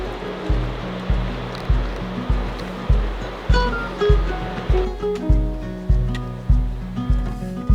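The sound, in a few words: waterfall in the High Tatras, Slovakia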